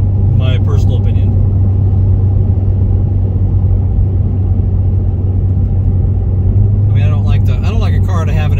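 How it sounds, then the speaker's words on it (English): Steady low exhaust rumble from a Cadillac ATS-V sports car cruising on an interstate highway, a constant near drone with a slightly throaty tone, and someone talking over it at the start and end. "I have the exhaust resonance fuse removed, so it always has a little bit of a throaty sound"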